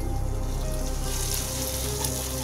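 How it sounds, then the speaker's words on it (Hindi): Continuous sizzling and crackling of spice paste frying in a hot pan for dal makhani, steady and fairly close, with no talking. "अब हम इसको 5 मिनट के लिए भूनने देंगे।"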